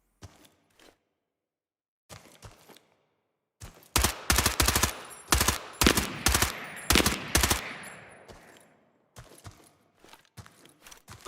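Sniper rifle gunfire in Incursion: Red River cracks out in a series of loud, sharp shots with echoing tails, preceded and followed by quieter scattered clicks and footsteps.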